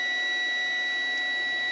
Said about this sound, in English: it's got a pretty reasonable beeper